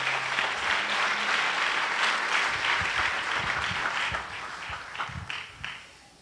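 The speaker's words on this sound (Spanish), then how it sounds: "Denle un fuerte aplauso al Señor en esta noche." Church congregation at an anniversary service gives strong, steady applause for about five seconds, then it tapers off with some footsteps and taps near the end.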